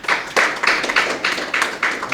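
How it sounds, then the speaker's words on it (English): An audience at a cricket launch event claps for the sponsors, producing a crisp, evenly paced run of about eight claps in a row at close range. "I want you to give them a round of applause"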